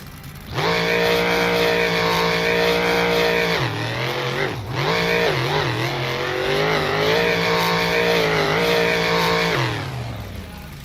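Two vehicles racing side by side on a track in Webberville, Michigan, a loud sustained engine roar with a gear-change dip and revving pitch swings, close and continuous.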